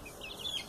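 Young chickens in a henhouse let out a brief cluster of high, thin cheeping clucks, close by and fairly soft, with no voices over them.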